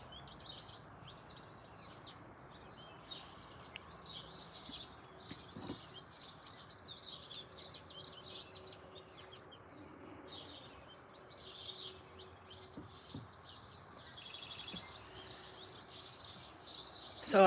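Birdsong fills a morning scene, with many chirps and tweets layered continuously at moderate loudness and no talking.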